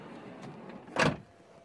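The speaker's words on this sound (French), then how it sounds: "Je ferme la porte." A Volkswagen California T6 van door shuts with a single short, muffled thud against a quiet background.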